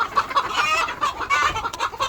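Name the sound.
chickens clucking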